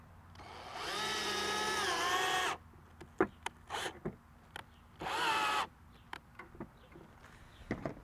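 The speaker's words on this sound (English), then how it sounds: "we're going to drill in this tiny little wood screw" A power drill with a Phillips bit drives a tiny wood screw into a DIY tablet mount, whirring in two bursts of changing pitch, separated and followed by clicks and light handling taps.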